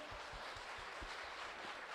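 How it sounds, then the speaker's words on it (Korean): A congregation at a prayer-house service applauds the praise team, with faint, diffuse clapping and low rhythmic thumps at a distance in a reverberant hall. "우리 찬양단 우리 박수 한번 쳐볼게요."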